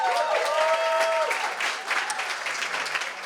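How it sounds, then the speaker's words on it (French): A studio audience applauds steadily, a dense wash of clapping that fades slightly toward the end, with a faint tonal sound near the start. "Laurent Turcot, qu'on peut remercier et applaudir."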